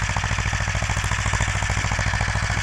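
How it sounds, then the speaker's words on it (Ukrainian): The small engine of a homemade tractor running in third gear while harrowing stubble chugs in a rapid, steady pulse, loud and close, with a buzzing vibration and no voices. "Тракторець біжить третьою передачею"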